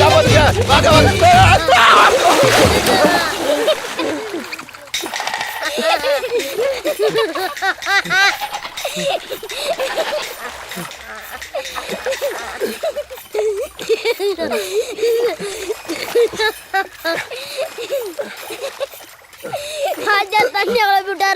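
Water is stirred and splashed in a village pond in a film, with a burst of splashing at the start. Voices, including a child's, then take over and talk continues with little water sound beneath.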